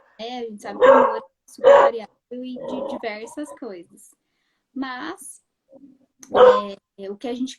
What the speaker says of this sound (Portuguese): A minha cachorra aqui tá querendo participar da live também.